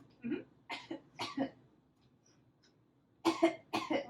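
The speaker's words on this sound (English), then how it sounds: "Do a couple coughs for me" Two sets of short coughs from a pregnant woman during a first-trimester ultrasound, a pair of clear coughs, a brief pause, then two more, close and distinct in a quiet room.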